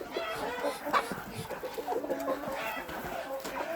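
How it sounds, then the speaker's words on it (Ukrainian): Chickens cluck and murmur close by in a steady, busy chatter, with a few louder squawks standing out from the flock. "Кури вийшли."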